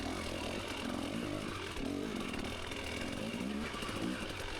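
A dirt bike engine drones steadily and loudly through a Tough Like RORR hard enduro qualifier ride, its tone wavering with throttle changes and no pauses.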